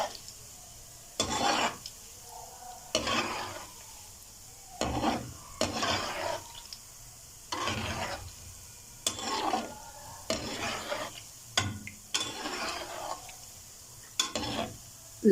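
Gulab jamun frying in hot oil in a pan are stirred in repeated bursts, each stir bringing a rush of bubbling sizzle and scraping, with short quieter pauses between strokes.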